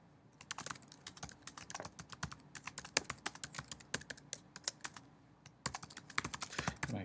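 Rapid typing on a computer keyboard, quick irregular clicks in bursts with brief pauses, close and fairly soft, no talking.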